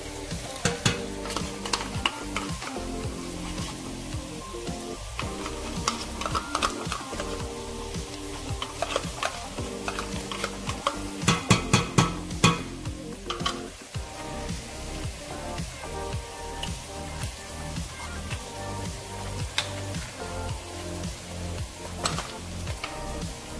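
Tinned tomatoes frying with onions in a pot are stirred steadily, giving continuous close sizzling with repeated scraping and stirring strokes throughout, with no talking.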